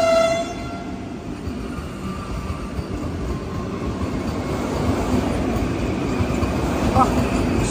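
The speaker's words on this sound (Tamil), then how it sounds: "திருச்சூர் ரயில்வே ஸ்டேஷன்லேருந்து நம்ம வந்தே பாரத் கிளம்பி போயிட்டு இருக்கோங்க." An orange Vande Bharat Express train rumbles steadily as it pulls away from Thrissur railway station, Kerala, with a brief horn-like tone at the start and a constant low roar throughout.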